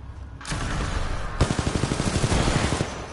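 Rapid bursts of automatic gunfire from the video game Titanfall 2, a fast crackling stream of shots over a dense, noisy background.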